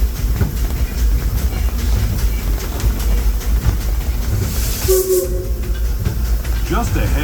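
The Disneyland Railroad train rumbles along the rails on a rainy day, loud and close with steady clatter and a brief hiss, while a recorded announcer speaks over it.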